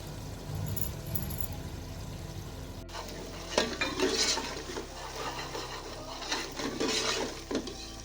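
Tomato and onion paste sizzling and frying in a pan for red lobia, with stirring scrapes and clinks of a utensil throughout, steady and close.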